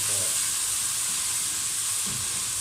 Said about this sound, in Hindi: अदरक लहसुन का पेस्ट डालकर दोस्तों आपने इसे सिर्फ 30 सेकंड के लिए पका लेना